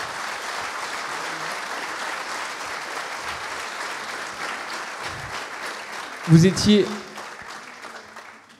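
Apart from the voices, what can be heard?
applause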